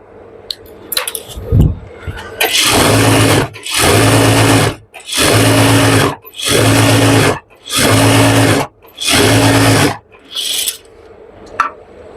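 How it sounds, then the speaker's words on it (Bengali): A sewing machine runs a straight stitch on pajama fabric in loud, close bursts, six sustained whirring runs separated by short pauses, with faint handling clicks before and after and no talk. "এগুলো সোজা সেলাই তাই একটু জোরে দিয়ে আপনাদের তাড়াতাড়ি দেখিয়ে দিতেছি"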